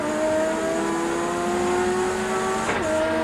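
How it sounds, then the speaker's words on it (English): A touring race car in the 1990 Australian Touring Car Championship round at Phillip Island accelerating away: a loud, close engine note rising through the revs with a shift near the end and a tyre squeal mixed in. "There it is with the Peter Jackson car getting off."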